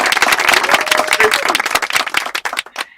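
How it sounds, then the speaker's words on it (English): An audience claps and applauds loudly, a thick burst of clapping that thins out into a few scattered claps at the end. "give a round of applause"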